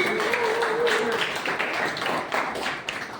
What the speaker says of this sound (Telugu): చప్పట్లు పెట్టండి.